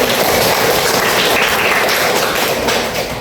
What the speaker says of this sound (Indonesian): Tepuk tangan buat Sahrul